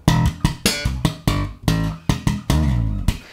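Slap bass riff with sharp percussive slaps, muted ghost notes and a sliding note near the end, played alone in a quick syncopated rhythm, close and loud.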